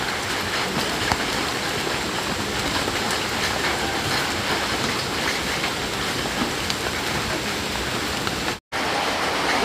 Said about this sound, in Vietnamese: hôm nay trời mưa như vậy